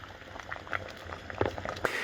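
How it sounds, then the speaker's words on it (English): A US MRE ration pouch of vegetable lasagna sits in a pot of boiling water, bubbling and popping in irregular small bursts close by. "that's been boiling in the pot for 10 minutes and it is nice and hot"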